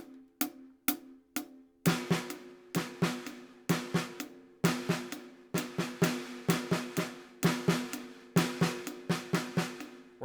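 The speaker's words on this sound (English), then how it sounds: "8th notes on the hi-hat and then 16th notes on the snare drum." Drum kit groove with steady eighth notes on the hi-hat and soft sixteenth-note ghost strokes on the snare between accented backbeats, close and crisp after a few opening hits, with no talking.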